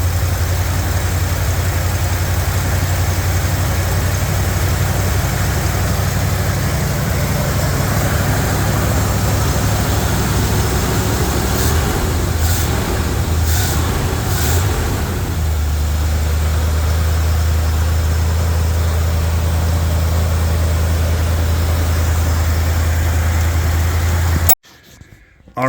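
Chevrolet C10 pickup truck engine idling on a cold night, a steady close low rumble that shifts to a slightly lower, smoother idle partway through before cutting off abruptly near the end.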